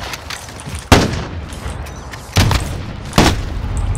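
Three loud, separate gunshots in a team deathmatch shooter video game, sharp reports spaced over a few seconds above a low, steady game ambience with no talking.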